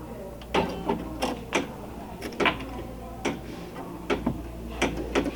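Embroidery machine stitching after the presser foot is lowered, giving a steady mechanical whir with regular sharp clicks and knocks across several seconds, fairly close and with no talk over it.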